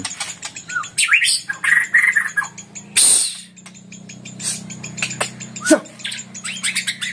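Lively white-rumped shama song with varied whistles, chirps and trills, bright and close, one loud sharp call standing out midway, over a low steady hum.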